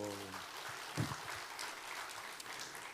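A church congregation applauds during a Sunday service, a faint, even wash of many hands clapping that lasts throughout, with a brief voice near the start.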